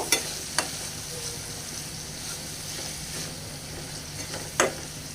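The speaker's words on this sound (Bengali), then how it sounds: "এখন আমি আরও একটু নাড়াচাড়া করে দিব" A spoon stirs a shrimp and bamboo shoot curry with turmeric in a hot pan, giving a steady soft sizzle with a few distinct scraping knocks against the pan.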